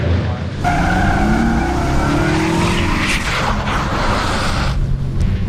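A car skids to a stop during a film stunt, a loud, sustained tire squeal with engine noise lasting several seconds before cutting off abruptly.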